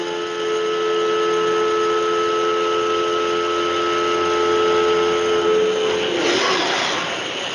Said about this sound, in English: when it hits the inside of those curves, you're going to hear it, squeal a little bit